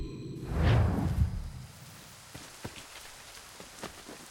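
Rain falling in the video game Assassin's Creed III, a soft hiss with scattered droplet ticks, opening with a brief low whooshing rumble before settling into quiet, steady patter.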